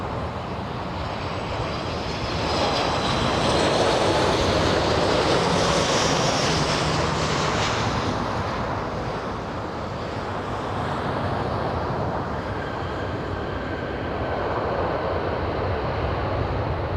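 A Southwest Boeing 737 MAX 8 jet arriving at LAX airport gives a steady, loud jet roar that swells and fades gently over the whole stretch, with no talk over it.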